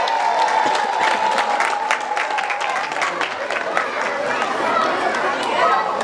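Crowd at a school sports day clapping for a team, a dense, continuous patter of many hands close by, mixed with children's chatter and voices talking over it throughout.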